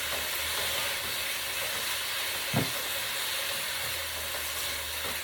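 Pepper steak meat searing in a pan on high heat, a loud continuous broadband sizzle with a single brief clunk midway and no talking.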